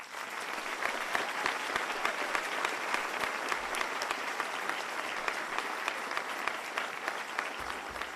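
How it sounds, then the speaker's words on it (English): Steady, continuous applause from a large audience at a U.S. Army Ranger School graduation honouring soldiers and instructors, dense crisp clapping heard somewhat distantly and holding at an even level throughout. "Ladies and gentlemen, how about a round of applause for these soldiers as well?"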